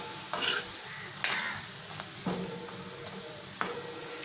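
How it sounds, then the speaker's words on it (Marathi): Chana dal pakoda frying in hot oil, a soft steady sizzle under occasional clinks and scrapes of a slotted spoon turning the fritters, fairly quiet and close. "भजी न करपता परंतु आतपर्यंत शेकतील अशा पद्धतीने तळून घ्यायची"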